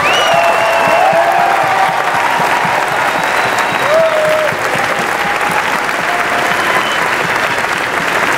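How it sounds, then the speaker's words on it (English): An audience applauds and cheers, dense sustained clapping with scattered whoops and whistles, loud and continuous across the whole stretch. "join me in a round of applause to appreciate these guys"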